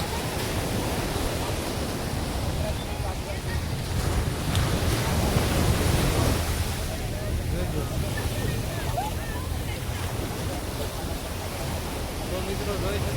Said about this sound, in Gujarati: આ કવડા કવડા મોજા આવે છે